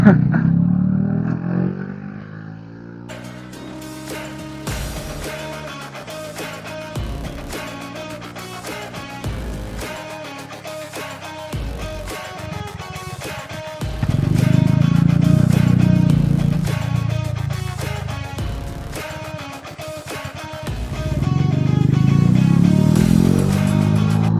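A Suzuki Smash 115 motorcycle engine revs repeatedly in loud surging bursts, with sharp popping and crackling between throttle blips, close by.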